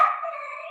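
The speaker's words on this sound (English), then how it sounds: "Sorry, dog in the room." A dog howls somewhere in the room during a gallery talk, one sustained, slightly wavering tone that starts loud and carries steadily for nearly a second with no talk over it.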